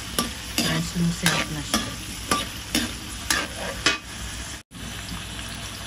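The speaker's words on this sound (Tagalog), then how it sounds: "At halu-haluin nyo lang siya." Chicken afritada with bell pepper is stirred in a sizzling pan, a spoon scraping in a rhythmic series of sweeps over steady frying crackle; someone speaks briefly near the end.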